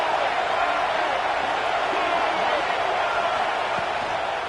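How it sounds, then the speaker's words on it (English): Stadium crowd in a Madden football game, a steady broad roar of many voices at even volume throughout, with no distinct voice standing out. "This crowd trying to make life miserable for this offense."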